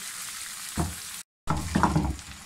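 Chicken frying in butter in a karahi over high heat, a steady sizzle with stirring scrapes that swells after the first second, broken by a short silent gap before the frying resumes.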